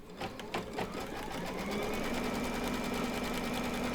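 Embroidery machine stitching a Christmas tree mug rug in the hoop, a steady, fast mechanical whirr with rhythmic needle pulses and a rising tonal hum, close and continuous.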